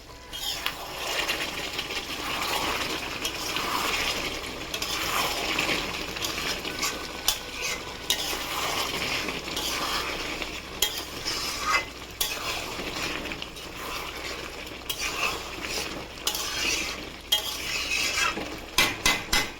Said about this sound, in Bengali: গ্যাসটা জোরে দিয়ে কষছি